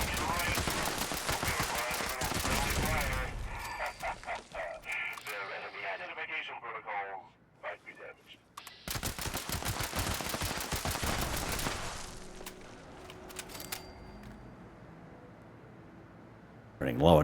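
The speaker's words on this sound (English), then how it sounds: "Now this Tommy gun just loves the ammo." A Tommy gun fires in the video game Fallout 76, with two long sustained bursts of rapid automatic fire separated by quieter stretches of scattered game noise, while someone talks.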